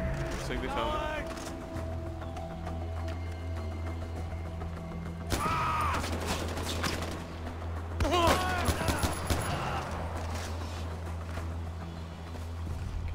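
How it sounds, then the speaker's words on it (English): Gunfire bursts in the Far Cry 4 video game, with two loud volleys of rapid shots standing out over a steady game soundtrack and ambience, plus scattered smaller sounds between. "Gunfire."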